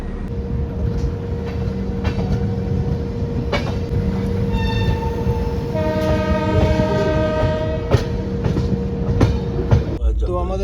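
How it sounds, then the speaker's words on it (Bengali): Passenger train 13149 Kanchankanya Express halts at a station on the way to Hasimara: a low rumble under sustained horn tones, metallic wheel squeals and clanks, with a sharp shift near the end. "2 মিনিট ট্রেন দাঁড়াবে, তারপর ট্রেন ছেড়ে দেবে।"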